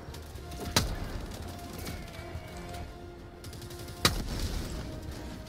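A new Helldivers 2 weapon, a grenade-launching mix of autocannon and sniper rifle, fires two sharp, fairly distant single shots a few seconds apart over a low ambient rumble, with no talk.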